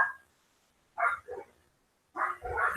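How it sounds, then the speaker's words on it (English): A dog barks outdoors in a few separate, fairly close, loud barks, with short silences between them. "every time another dog barks, he barks"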